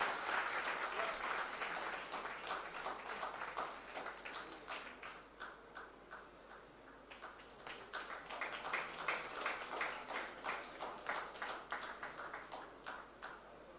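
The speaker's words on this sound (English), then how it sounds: "give them a big round of applause" Applause at a PGDM convocation ceremony during a medal presentation, a fairly faint, distant crowd clapping that ebbs and swells in a loose rhythm for over ten seconds, with clear individual claps.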